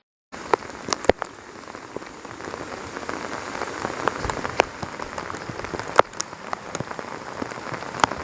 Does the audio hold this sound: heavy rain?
yes